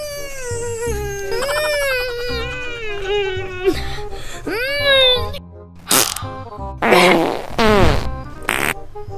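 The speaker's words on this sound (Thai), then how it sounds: "ตดออกแล้วกัน" In a Thai comedic short drama, a character strains and breaks wind, with drawn-out whiny vocal groans followed by a few short, sharp fart sounds near the end, close and clear.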